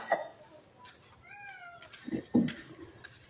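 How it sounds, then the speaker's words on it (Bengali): A large, pregnant mother cat stuck for a day and a half gives a single drawn-out meow, fairly close. Faint knocks and scuffles come before and after it. "তিনতলা থেকে বড় একটা বিড়াল"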